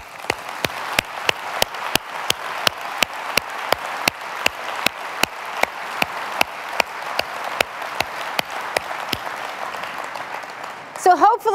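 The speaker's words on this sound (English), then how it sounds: "let's give them a round of applause" Sharp, evenly spaced claps in a steady rhythm ring out at a Dell World 2015 keynote as customers in the audience stand, with a softer crowd wash underneath and a brief burst of other sound at the end.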